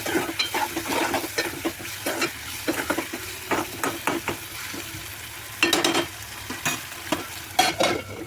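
Egg is whisked with salt, ginger-garlic paste and turmeric in a bowl, a quick series of clinking, scraping strokes in uneven bursts, close and clear with no talking.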